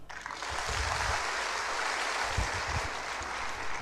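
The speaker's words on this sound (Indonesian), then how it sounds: "Tepuk tangan." Sustained applause from a church audience at a sermon, a steady wash of clapping that holds evenly for several seconds.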